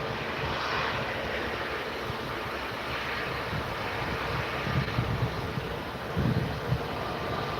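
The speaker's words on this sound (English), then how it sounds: "Next to go, we have another Jet2, Boeing 737-800." A Jet2 Boeing 737-800 with scimitar winglets departing Manchester Airport on runway 23L, heard as a steady, broad engine roar with wind buffeting the microphone and a few louder low gusts near the end.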